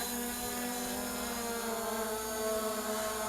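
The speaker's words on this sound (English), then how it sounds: "And then starting the motors again. This is our new takeoff position, by the way. And automatic takeoff." Motors of an MJX Bugs 20 EIS 4K drone spin up for an automatic takeoff, a steady high-pitched whine with stacked tonal layers and a constant buzz, heard nearby and unbroken throughout.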